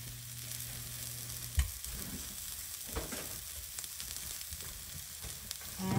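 Bamboo shoots sizzle steadily in a hot pan, with occasional clacks and scrapes of a spatula as they are sautéed, close and continuous.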